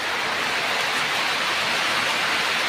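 Steady rain falls in a dense, even hiss on a farm during the soybean harvest season, continuous and close with no voices.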